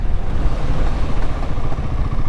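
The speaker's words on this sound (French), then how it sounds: "on va se tester le frein arrière" A Royal Enfield Himalayan 450 motorcycle brakes hard on its rear brake with ABS on a wet road, with continuous engine and road noise, rumbling and clattering close up, and no voice.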